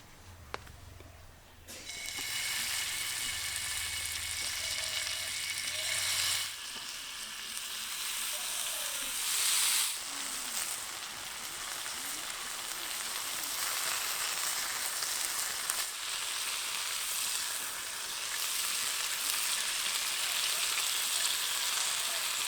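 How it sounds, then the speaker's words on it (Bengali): Continuous loud sizzling of chicken kathi kebabs shallow frying in hot oil, with a brief clatter at the start and occasional crackles and pops throughout. "তেলটা গরম হয়ে গেলে কাঠি কাবাবগুলো সব আমি ভেজে নেব"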